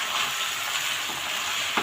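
Sliced onions fry and get stirred in a pan for shawarma, a continuous close sizzle with soft scraping of the stirring and a small clack near the end.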